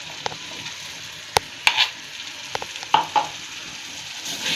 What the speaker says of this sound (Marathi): चांगलं हलवून घ्यायचं वाटण